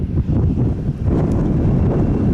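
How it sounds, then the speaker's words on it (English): Loud, continuous desert wind near Palm Springs buffeting the microphone, a deep rumbling roar with gusty surges and no voices throughout. "it's been windy here in the desert"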